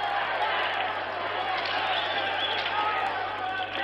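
Spectators applaud in the arena at a USSR versus USA Olympic ice hockey game, a steady wash of clapping and crowd noise that carries on without a break, loud and continuous.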